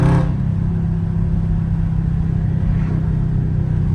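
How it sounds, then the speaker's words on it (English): Dodge Scat Pack in track mode, a close, loud engine rumble that holds a steady low drone after a brief higher burst at the start, suggesting a downshift blip settling into sustained cabin roar. "how y'all like them downshifts and track"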